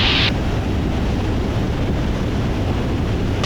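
Steady wind roars and buffets a Cessna 172 during its landing at Maui, a constant loud rush with no talk.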